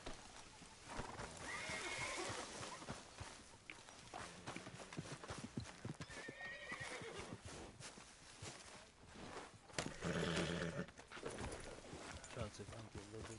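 A horse in the Red Dead Redemption 2 video game walks with hollow clip-clop hooves and lets out whinnying neighs, mixed with game music while a player talks over it.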